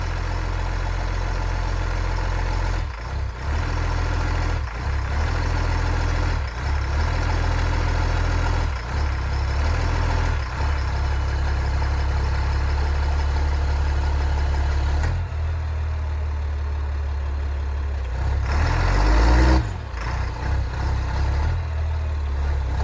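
A CAT diesel-swapped Ford F350 truck hauling firewood drives forward, its heavy engine droning steadily and loudly for a long stretch with brief dips and surges in throttle.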